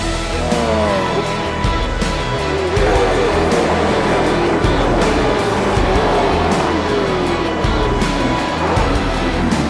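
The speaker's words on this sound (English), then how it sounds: "Those things sound incredible." Supercars race cars scream past on the Adelaide 500 street circuit, several in quick succession with rising and falling engine notes, loud and close amid crowd noise.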